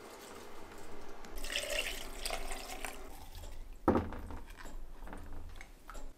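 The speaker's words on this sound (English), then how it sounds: "Okay, we're topping it off with our water." Water pouring into a jar packed with foraged fiddleheads, a steady splashing fill that swells and ends with a sharp gurgling splash, fairly close.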